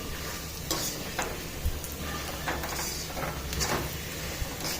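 Peanuts, roasted gram, curry leaves, green chilies, garlic, onion, cumin and mustard seeds fry in a pan with a constant crackling sizzle, broken by scattered scrapes and knocks of stirring.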